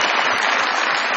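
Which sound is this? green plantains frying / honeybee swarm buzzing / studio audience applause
studio audience applause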